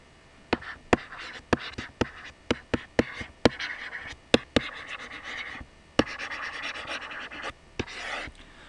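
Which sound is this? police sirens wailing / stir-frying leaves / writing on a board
writing on a board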